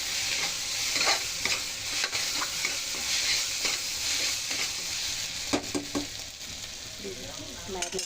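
Onions, green chili and curry leaves are stirred in a cooker for a mutton curry, a soft steady sizzle under repeated scraping and clicking strokes of a spoon in an uneven rhythm, with no one speaking.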